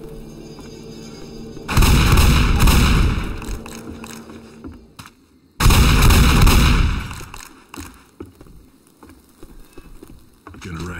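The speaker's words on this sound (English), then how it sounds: "the shotgun." Shotgun fire in Left 4 Dead during the Death Toll campaign near a boathouse: two heavy, booming blasts several seconds apart, each followed by a long rumbling decay over quieter game ambience.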